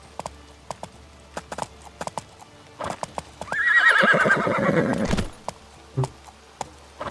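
In the medieval game Life is Feudal, a horse galloping downhill gives scattered hoof clip-clops that ring out before a loud, drawn-out whinny, then sparse hoofbeats resume.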